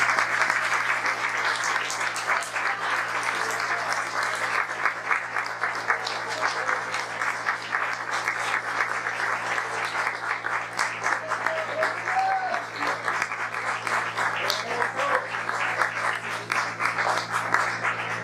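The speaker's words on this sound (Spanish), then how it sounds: "Él dio un fuerte aplauso al Señor." Steady church applause for the Lord fills the whole span, a dense, even wash of clapping from a congregation with no break, murmured voices faintly mixed in beneath it and a low hum running underneath.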